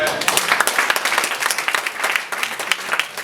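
Church congregation clapping loudly and steadily throughout, a dense wash of hand claps filling the space with some voices mixed in.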